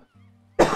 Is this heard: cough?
yes